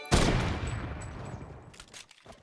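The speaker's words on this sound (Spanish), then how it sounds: "Hay disparo hasta arriba." A sharp burst of Fortnite Mobile gunfire, loud at first and then decaying into a rumbling tail, with a few fainter shots near the end.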